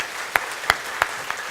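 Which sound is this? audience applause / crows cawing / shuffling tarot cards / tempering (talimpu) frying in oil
audience applause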